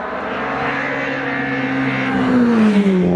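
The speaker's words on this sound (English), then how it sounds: "James Hudson is away in the Volkswagen Golf" Volkswagen Golf race car pulling away from the start line at the Prescott hillclimb, its engine note rising steadily in pitch as it accelerates, loud and close with no voices.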